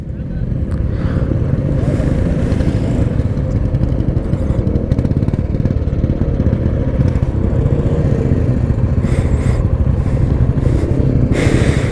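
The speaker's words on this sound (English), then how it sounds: "All the bikes are revving now" Engines rumble loudly and continuously close by, with a group of motorcycles droning together on a dusty Sarchu to Leh ride in Ladakh and occasional bursts of revving; a voice speaks over the noise.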